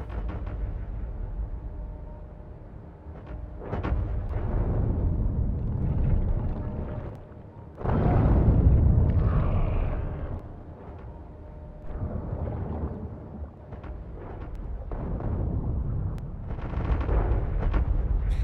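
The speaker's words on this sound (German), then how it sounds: "Jetzt schießen sie auf zwei große Nester. Gleichzeitig." Artillery in the Factorio strategy game shelling large biter nests, repeated deep booming shots and rumbling impacts rising and falling in waves, heavy and close, with no talk.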